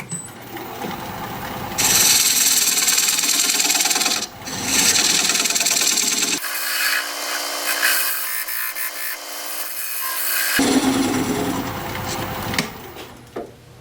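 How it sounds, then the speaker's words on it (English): Recess tool cutting a dovetail into the side of a non-round wooden bowl on a wood lathe, loud scraping and whirring bursts with pauses between cuts and a sustained high hiss. "use my recess tool to put a dovetail on the side here"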